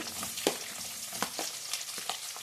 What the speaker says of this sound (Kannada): ಒಂದು ಈರುಳ್ಳಿ ಹಾಕ್ಕೊತಾ ಇದ್ದೀನಿ